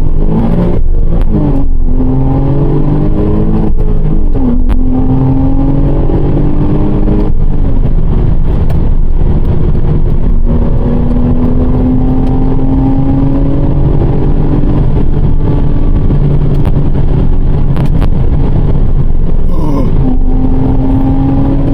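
Porsche Cayman S engine revving hard on backroads, loud and close, its pitch repeatedly climbing through the gears and dropping on shifts over a constant road roar.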